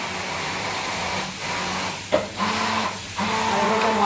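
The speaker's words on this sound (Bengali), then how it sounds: "এই মেশিনে মশলা হচ্ছে ফুলকপির জন্য।" Kitchen machine grinding spices for cauliflower curry, a steady whirring hiss that runs continuously with a few brief dips and a sharp knock midway, close by, with no voices.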